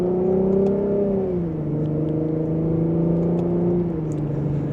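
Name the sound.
2025 Lexus IS350 accelerating in sport mode, second gear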